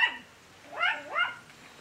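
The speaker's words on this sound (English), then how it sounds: "my noisy poodle. I've got no idea what she's barking at." A poodle barks two or three times in quick succession, close and fairly loud, with short yelping, whine-like tones and quiet gaps between the barks.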